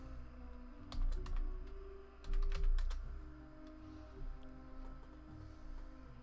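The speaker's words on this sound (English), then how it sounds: "I will go ahead and type that in" Bursts of keyboard typing on a computer, entering a Battle.net name in World of Warcraft: clusters of quick clacking keystrokes over a low steady hum of game background, close and moderately loud.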